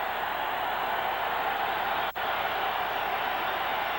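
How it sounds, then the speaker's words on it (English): A stadium crowd at a Chargers vs Broncos football game in Denver roars as a steady, dense wash of distant cheering that dips for only a split second midway. "Listen to this crowd get in the game"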